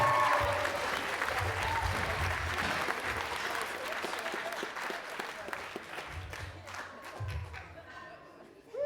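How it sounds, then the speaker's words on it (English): Applause rolls through the crowd at a male bench press and deadlift powerlifting competition, a dense, sustained clatter of clapping with a few thuds and cheers mixed in, slowly thinning toward the end. "give them all another round of applause as well as the ladies in the back"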